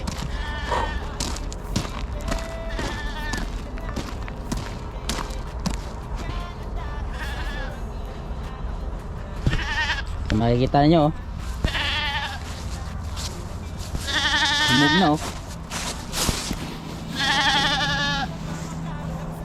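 Goats bleat loudly in several wavering calls, close by, while a person talks over outdoor background noise, outdoors in cold early-winter weather in Canada.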